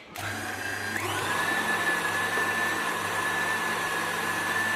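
A stand mixer whisks butter into crème mousseline: the motor switches on with a whir, then its whine climbs to a higher, steady pitch and holds close and constant.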